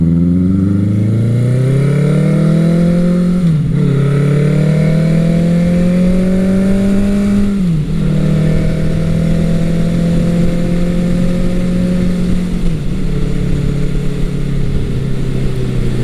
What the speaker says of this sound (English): This one has a Mac 4-in-1 exhaust, and you just got to hear that going up the hill a little bit.